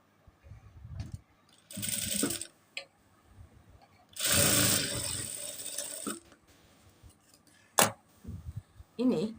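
Domestic sewing machine stitching a cotton kurta for a two-year-old boy, heard in short close bursts of rapid whirring separated by quiet pauses and small handling clicks.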